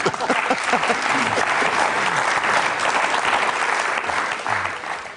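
A studio audience gives loud, sustained applause to welcome a guest on a Georgian TV show, a dense, even wave of clapping lasting several seconds with a voice faintly underneath.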